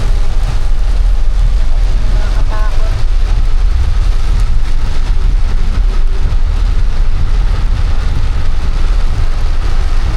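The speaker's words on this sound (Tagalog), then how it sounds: "Sana tumigil na tong ulan na to." Heavy rain pours down in a steady, dense roar, with a voice speaking briefly over the downpour.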